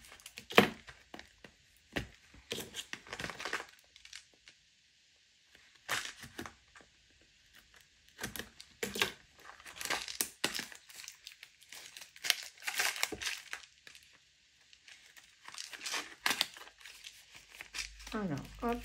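Crinkling plastic packaging and soft rustles come from opening a box of small scrapbooking charms, in intermittent bursts close by with pauses between, while someone talks over parts of it.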